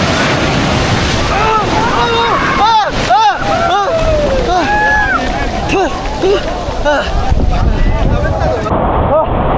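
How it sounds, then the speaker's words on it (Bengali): Big sea waves and strong wind during a boat ride off Cox's Bazar: loud wind buffets the microphone over rushing, crashing water, with excited voices calling out through it. "অনেক বড় ঢেউ"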